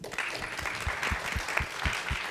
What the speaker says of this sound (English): Let's also give a round of applause to Carrie Fountain.